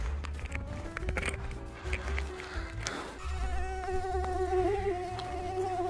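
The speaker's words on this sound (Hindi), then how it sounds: "मच्छर फिर भनभनाता है मारता हूँ" A mosquito's thin, whining buzz hangs close and continuous, wavering in pitch over a low background rumble in a comedic indoor scene.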